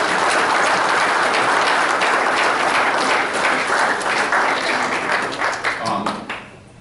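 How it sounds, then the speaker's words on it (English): Loud, sustained applause from a large crowd at an ice hockey hall of fame awards celebration fills the space, steady and dense, then tapers off toward the end. "I'd like to have a round of applause for them."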